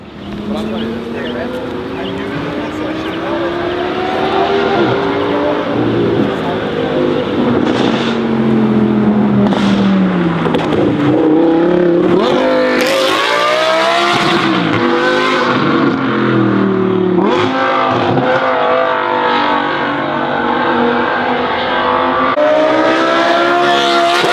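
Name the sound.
Audi R8 sports car engine revving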